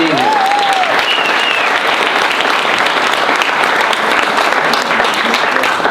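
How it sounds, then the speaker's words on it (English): A room of people at a Rhode Island public forum applauds elected State House officials with loud, dense, sustained clapping that carries on evenly throughout, while a faint voice or two briefly sounds beneath it at the start. "Let's give them all a round of applause."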